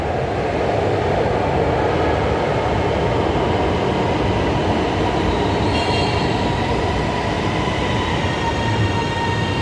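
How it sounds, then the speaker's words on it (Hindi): Metro trains rolling into a station, a steady dense rumble of wheels and track noise with faint high squeal, loud and continuous throughout, no talking. "दोनों ट्रेनें इकट्ठी आ गई हैं, मैं आपको दिखाता हूँ।"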